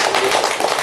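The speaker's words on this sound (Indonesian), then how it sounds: "Tepuk tangan." Applause during a talk-show episode in an indoor studio setting: a brief, dense wash of many hands clapping together, steady and fairly loud with no voices over it.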